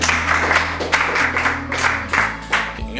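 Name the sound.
participants clapping for themselves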